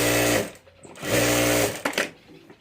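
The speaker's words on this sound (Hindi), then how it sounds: "तो इस तरह से यहाँ ऊपर में पट्टी रखकर सिलाई कर देनी है।" A sewing machine stitches a fabric strip onto a handbag in two loud, close bursts of rapid needle clatter, each stopping abruptly.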